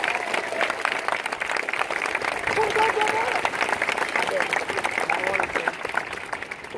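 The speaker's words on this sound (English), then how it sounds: "Let's give them a round of applause" Crowd applause with cheering at an Air Force basic military training graduation parade, dense steady clapping from a large audience filling the whole stretch, with faint voices and whoops mixed in.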